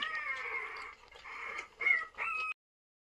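Young puppies whimper and whine in thin, high cries close by, several overlapping yips and plaintive squeals in short bursts before the sound cuts off abruptly.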